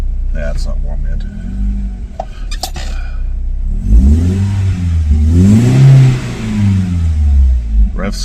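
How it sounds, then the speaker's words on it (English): A BMW E36's engine revs up with a rising, rumbling growl, holds for a moment, then drops back to a steady idle, with people talking nearby before the rev. "Revs fine, comes back down to idle fine."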